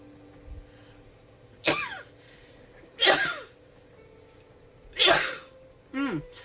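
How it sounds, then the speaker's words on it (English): Four sharp sneezes burst out one after another, evenly spaced and close up, against a quiet room. "I'm going to sneeze again."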